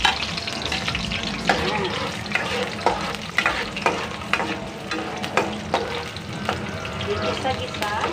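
Garlic and onion sauté in plenty of oil in a pan, a steady loud sizzle with repeated scraping stirs throughout, and a brief word spoken over it.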